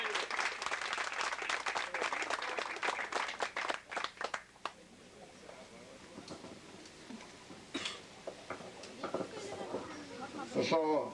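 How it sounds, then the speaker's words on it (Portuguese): A gathering of veteran paratroopers in Brazil breaks into crowd applause: brisk, full clapping for about four seconds that quickly dies away, followed by scattered claps, murmurs and a voice talking at a distance. "A ele, uma salva de palmas."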